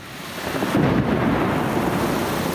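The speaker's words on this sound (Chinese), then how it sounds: "午后各地下起了大雨，雨势不小，像是屏东大雨倾盆，还夹带狂风及雷声。" Thunder during a heavy afternoon rainstorm in Pingtung, Taiwan, a deep loud rumble rolling in after a second over the constant dense hiss of pouring rain, with no voices.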